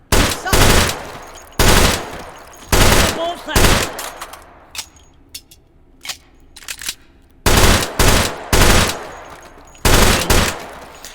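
Rapid three-round bursts from a pistol-carbine style gun in the video game H3VR, several loud sharp bursts separated by short pauses, with lighter clicks and handling noises between them.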